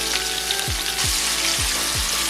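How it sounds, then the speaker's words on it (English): White onions sauté in a pan beside seared short ribs with a steady, bright sizzle, broken by a few low thuds as they are stirred, heard up close. "Let the onions saute for about 5 minutes before adding our chilies."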